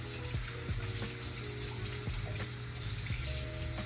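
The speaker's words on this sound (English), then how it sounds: "We're gonna go ahead and wash our hands." Tap water runs steadily into a kitchen sink during hand washing, with the soft continuous splash holding at a moderate level throughout while a pan of potatoes or grease sizzles in the background.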